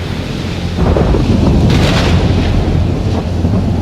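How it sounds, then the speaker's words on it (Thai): A thunderstorm at sea: loud, deep thunder rumbles and rolls up close, swelling in the middle over a constant wash of wind and rain. "บ่เคยพบพายุใหญ่ขนาดนี้เลย"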